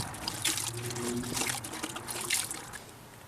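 Water trickles and splashes unevenly over a gun as the Cold Blue finish is rinsed off, close and moderately loud, with a few stronger gushes.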